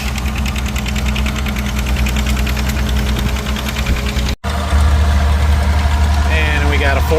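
A vintage Farmall H tractor engine runs at an outdoor plow day, a steady low idling thrum with a rhythmic knocking pulse, loud and close, with a brief dropout partway through before the engine sound resumes alongside other noise.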